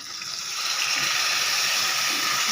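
Yogurt poured into a hot pan of fried pointed gourd for doi potol gives a loud, steady rushing hiss that swells slightly and holds without a break.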